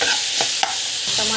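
Onions sautéing in a pan for tomato thokku, a soft steady sizzle with a few quick spatula scrapes and stirs over a short moment, close and alone.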